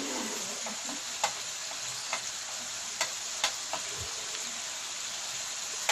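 Chicken karahi masala with onion, red chili powder and turmeric being fried and stirred in a pan: a constant hiss of frying with scattered light ticks and taps of a spoon against the pan.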